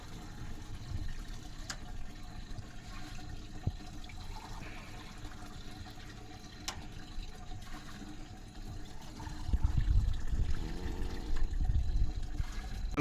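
Water flows from a tap at night as it is collected, a faint steady trickle that swells into a louder rushing fill near the end.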